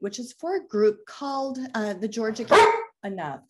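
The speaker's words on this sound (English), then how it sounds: "Excuse my dog here if you hear him." A pet dog barks in a home, a single sharp bark partly overlapping steady speech from a person talking close to the microphone.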